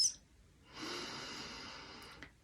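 A single long, slow deep breath drawn in steadily and then cut off, close and soft, taken while holding a vagus nerve relaxation exercise, with a faint sniff at the start and no talking.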